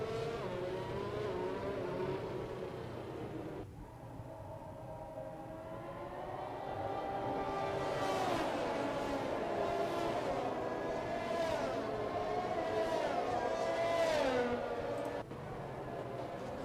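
An Alpine race car screaming through a Need for Speed race on a Singapore circuit, its engine revving up and down through repeated gear shifts and whining at high pitch, steady and fairly close, with commentary running underneath.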